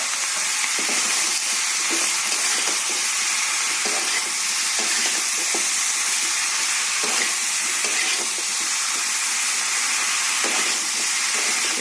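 Chopped bottle gourd sizzles in hot oil in a wok with a loud, unbroken hiss of frying and steam, broken by faint stirring scrapes, close by and with no voices.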